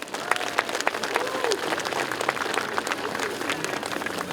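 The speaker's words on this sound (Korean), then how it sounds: "박수 부탁드립니다." Applause at a statue unveiling ceremony for President Park Chung-hee, a crowd clapping steadily with sharp individual claps standing out and some faint voices underneath.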